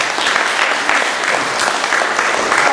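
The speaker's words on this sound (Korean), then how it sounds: "그렇게 해주신 우리 하나님께 박수로 감사하겠습니다" Church congregation claps together in thanks during a worship service, a loud, close, continuous patter of many hands with no speech over it.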